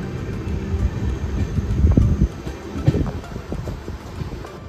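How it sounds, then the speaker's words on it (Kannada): Passenger train pulling out of a station in Kerala toward Ernakulam Junction, a low rumbling roll with wind buffeting and a few louder clunks near the middle. "ಈಗ ನಮ್ಮ ಟ್ರೈನ್ ಡಿಪಾರ್ಚರ್ ಆಗೋಯ್ತು"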